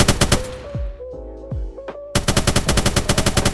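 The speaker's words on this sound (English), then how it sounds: "Just shoot the actual guns, right?" Rapid automatic gunfire from a Minecraft PE 1.19 Apex Legends mod, with a fast burst, a pause with a few single booming shots and ringing echoes, then another rapid volley, loud and with no voices.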